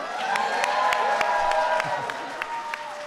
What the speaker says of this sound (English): give a big round of applause to her mom, who is here